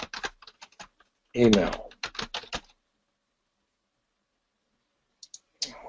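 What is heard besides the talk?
typing on a computer keyboard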